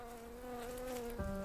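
A male wasp buzzing close by near an orchid flower, a steady insect drone with a slight shift in pitch near the end, heard alone.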